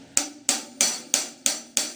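Closed hi-hat cymbals on a drum kit struck six times at an even pace, each hit a short bright chick with a quick decay, close and with no other sound.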